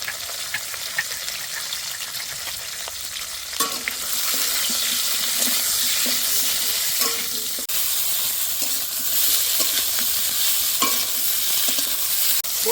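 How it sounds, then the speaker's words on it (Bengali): Ridge gourd pieces with a pinch of turmeric frying in a pan over high heat, a dense hissing sizzle that swells louder partway through, punctuated by sharp clicks and scrapes of a stirring spoon, close up and without speech. "এবার ঝিঙেগুলো ভেজে নেব।"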